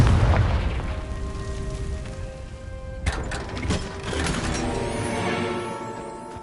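A Confringo spell explosion in Hogwarts Legacy bursts with a deep boom, then a sharp second blast about halfway through, followed by crackling debris over a low rumbling game backdrop.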